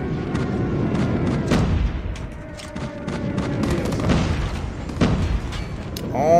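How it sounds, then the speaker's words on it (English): Repeated booming blasts and gunfire crackle in quick succession in a ranked first-person shooter match, loud and chaotic, with a voice speaking in between. "Oh my god, there's so many explosions!"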